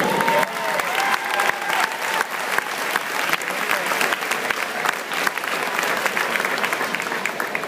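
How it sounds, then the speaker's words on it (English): An audience applauds at the 2012 YMCA Nationals swimming awards ceremony for the 100 butterfly, a dense, even wash of many hands clapping that carries on without a break. "Big round of applause for William Kiefer."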